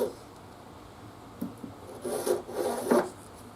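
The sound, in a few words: Shinto rasp filing a wooden bass guitar neck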